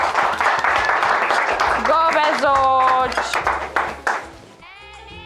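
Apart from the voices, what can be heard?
children clapping for themselves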